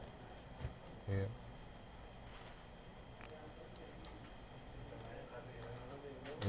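Mouse clicks come from drawing a road profile in Civil 3D software. A few crisp, separate clicks sound close and quiet against faint room noise.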